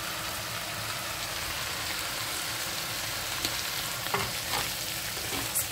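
Spinach frying in hot oil gives a continuous soft sizzle while being stirred, with a few light scraping clicks near the end and no talk.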